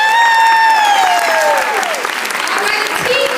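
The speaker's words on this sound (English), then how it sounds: "give them a round of applause as they take their seats" Steady applause from an audience fills the whole stretch, with a bright tonal sweep gliding downward over the clapping near the start.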